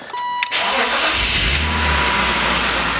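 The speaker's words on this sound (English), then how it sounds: "A little cold start on the car." A 2000 BMW M Roadster cold start: a brief starter crank, then the engine catches with a loud rising burst and settles into a steady, close, rumbling idle.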